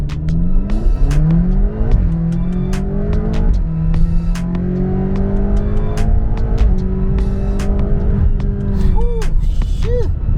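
A 750 HP BMW X6M launches from a dead stop in Sport Plus mode, engine roaring loud and close as it climbs through several gear changes, revs rising, dipping at each shift and rising again, with a brief tire chirp near the end.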